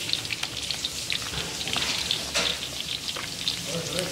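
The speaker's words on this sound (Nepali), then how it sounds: "हामीले माछा पकाउँदैछौँ। फ्राई गरेर खाने" Fish frying in a pan, a steady close crackle of hot oil with small popping spatters running throughout, no voices.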